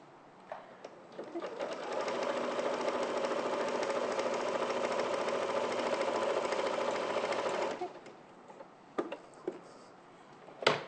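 A sewing machine with a walking foot stitches steadily for several seconds in a continuous mechanical whir, then stops, leaving light clicks and handling taps near the end.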